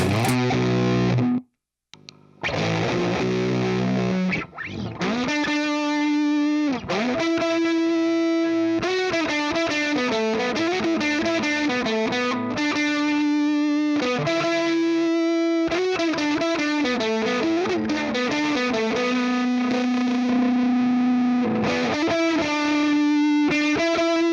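An electric guitar played through heavy distortion with the gain turned all the way up, held notes and chords ringing loud and thick for about twenty seconds after a brief gap near the start, with no talk.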